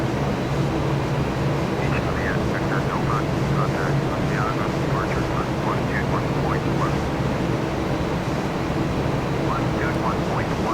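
In a flight video game, an airplane engine on its landing approach gives a steady, unbroken droning roar throughout, with a voice talking over it.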